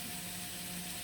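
A brief, close sizzle of apples frying in a hot dry pan without oil, steady and crackling throughout.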